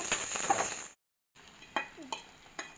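Mustard seeds, dried red chilies and onion frying in oil in a pan give a close, steady sizzle with spoon-stirring scrapes and metal clinks, broken by a brief silent gap.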